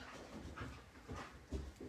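A dog worries a pillow, shaking and chewing it, with soft panting breaths and faint snuffling thumps, quiet and close in an otherwise still room.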